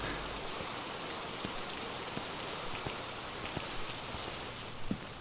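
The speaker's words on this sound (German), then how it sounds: "Regen." Steady rain pattering in the video game Phasmophobia, a dense continuous hiss with scattered individual drops tapping close by, with no talk.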